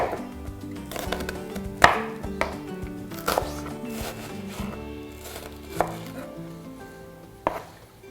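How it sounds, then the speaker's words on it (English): A knife chops an onion on a cutting board for a tomato sauce, giving sharp, irregular thuds against the board under steady background music. "So it just helps chop the onion up so you're not having to handle the onion too much"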